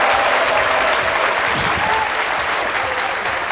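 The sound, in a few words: studio audience applause for guests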